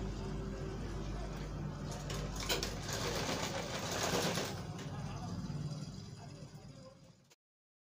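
An electric sewing machine stitches a sherwani with a continuous close whirring hum that runs several seconds and then cuts off abruptly.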